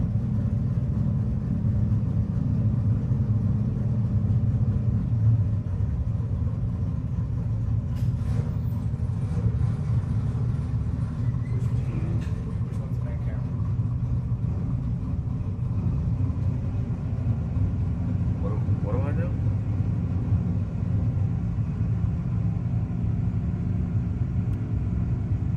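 A Camaro drag racing down the strip at a no-box 660 shootout gives a continuous low, distant engine rumble under crowd and track ambience, with a few faint sharper bursts partway through.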